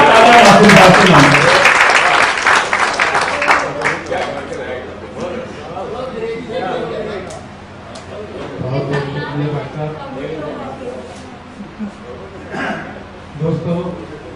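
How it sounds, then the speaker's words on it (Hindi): Loud applause from the audience at an all-India Hindi poetry gathering (kavi sammelan) in Ambedkar Nagar, greeting a poet, with crowd chatter and a few chuckles mixed in before it fades under a man's speech. "एक बार जोरदार तालियां मासूम साहब के नाम"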